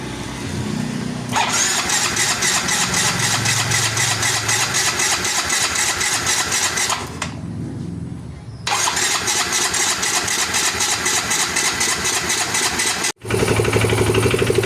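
A Yamaha Mio i 125 scooter engine, noted as very noisy, runs loud and close with a steady buzzing idle for most of the span, dipping briefly twice before roaring on again.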